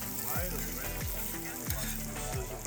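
Brisket burnt ends coated in melting beef tallow warming in a pan at a campsite, a steady hissing sizzle with people talking over it.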